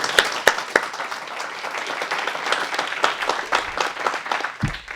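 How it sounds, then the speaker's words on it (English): Audience applause at a civic meeting about a special improvement district, a crowd clapping with some sharp individual claps standing out near the start, close and fairly loud, ending with a brief low thump. "I think we all owe him a round of applause"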